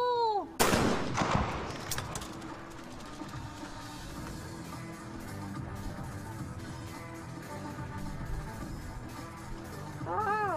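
Shotgun blasts ring out during a women's trap shooting final at China's 2021 National Games: one sharp, loud report with a long echoing decay, followed by a steady crowd and venue murmur and a faint hint of a second shot at the end.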